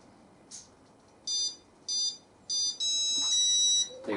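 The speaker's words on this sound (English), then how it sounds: "There you go, you heard it beep 3 times." WLToys V950 RC helicopter on a 3S battery giving three short high electronic beeps, then a longer tone, close and clear in a quiet room.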